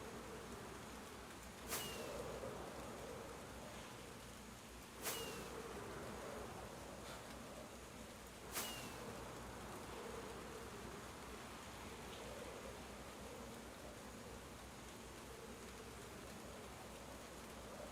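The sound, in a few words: bees buzzing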